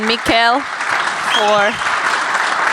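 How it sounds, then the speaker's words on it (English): A panel audience claps in a dense, continuous patter throughout, while a voice speaks briefly over the applause twice. "let's give a round of applause to Christoph and"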